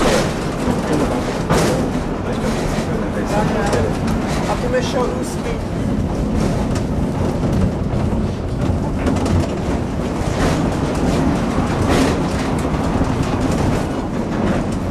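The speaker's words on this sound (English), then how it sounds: "First we take the funicular train up." A funicular train in Switzerland rumbles steadily uphill with constant rattling and occasional clatter, loud and close, with muffled voices underneath.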